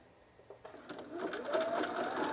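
A sewing machine stitches fold-over elastic in a steady mechanical whir that starts soft and grows louder and faster after the first second, running alone without talk.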